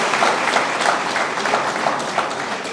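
Steady, dense applause from a graduation ceremony audience, a continuous wash of many hands clapping at an even level with faint crowd murmur.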